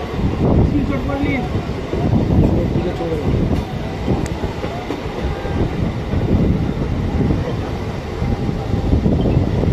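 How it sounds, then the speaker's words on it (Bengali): A first passenger train rolls on rails toward the Nashipur rail bridge over the Bhagirathi river near Azimganj, a steady loud rumble with rhythmic clickety-clack of wagons and some wind buffeting the microphone throughout. "অবশেষে ট্রেনের চাকা গড়ালো নসিপুর অভিমুখে"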